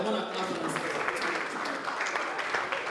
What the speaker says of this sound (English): I want you all to put your hands together for yourselves. I want to clap for